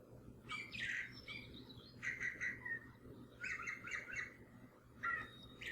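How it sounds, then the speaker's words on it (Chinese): A sound effect of a songbird calling in four separate bursts of bright chirping and warbling phrases, spaced a second or so apart over a faint low hum. "我这边加个鸟叫声"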